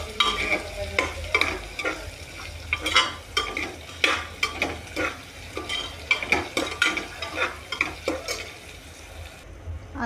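Masala rice with finely chopped coriander being stirred in a pan, a steady series of spoon scrapes and clinks against the metal over a soft sizzle, close and without talk.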